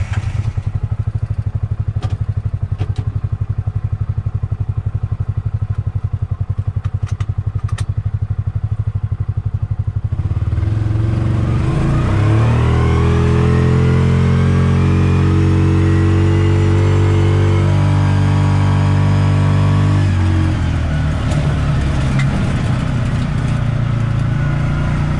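Kawasaki Mule Pro MX mid-size side-by-side idling with ticking clatter, then starting up and revving loudly as it accelerates in high range two-wheel drive, the engine pitch rising and falling close by.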